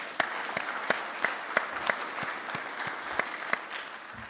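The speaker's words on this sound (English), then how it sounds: "let's give them all a big round of applause" An audience at a military communications symposium panel claps in sustained applause, a dense steady patter with a few sharper individual claps standing out, fairly distant in a large hall.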